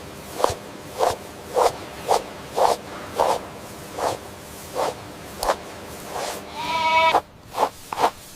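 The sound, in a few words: goats bleating on a commercial goat farm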